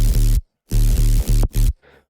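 A dubstep sub bass heavily processed with overdrive and multiband compression: four loud, gritty, full-range bass bursts with hard cutoffs, followed by a faint hissy tail.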